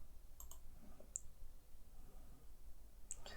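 Two faint, sharp computer mouse clicks, spaced about two seconds apart, stand out against a quiet room background with no talking.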